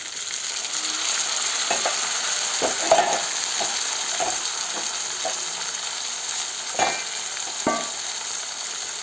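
Cluster beans fry in a pan for a gongura curry, with a steady sizzle and a series of soft scraping stirs and utensil knocks at close range.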